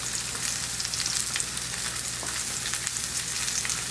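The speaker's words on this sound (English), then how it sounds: "when I get it there and it's frying, I go ahead and I low down the heat" Salmon pan-seared in a hot pan gives a constant close sizzle and crackle with fine spattering pops, steady throughout and without any voices.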